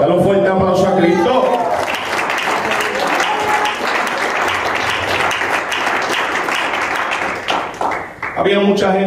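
A church congregation bursts into loud, sustained clapping during a Spanish-language sermon, the dense applause rolling for several seconds before tapering off as the preacher's voice returns.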